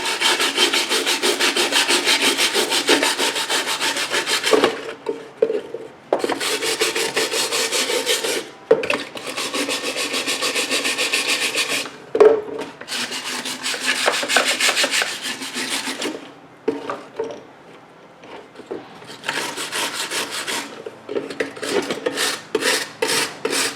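Stiff brush scrubbing Stihl BG 75 leaf blower parts such as the fuel tank, a rasping back-and-forth scraping in bursts of several seconds separated by short pauses, close and alone.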